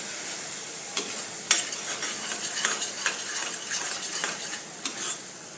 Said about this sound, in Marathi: हा गरम मसाला घरगुती आणि हळद हेही मसाले चांगले परतून घ्यायचे